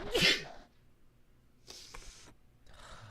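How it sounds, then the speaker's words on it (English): A single loud, sharp sneeze bursts out at the start, followed by quiet and a couple of faint rustling movements. "excuse me, I'm gonna sneeze."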